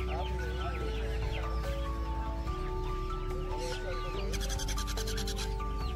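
Young chickens sold for home rearing cluck and chirp repeatedly at the busy Pallavaram Friday market in Chennai, amid a steady crowd hum and a sharp metallic rattle near the end.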